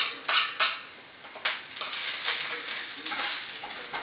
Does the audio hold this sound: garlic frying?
yes